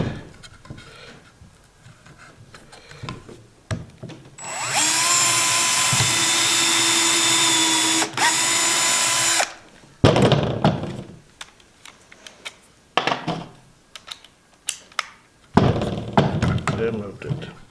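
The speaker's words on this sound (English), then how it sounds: "Drill it." A cordless drill bores into a homemade tool built from scrap, whining loudly and steadily for about five seconds. Scattered knocks and handling sounds follow, with people talking before and after.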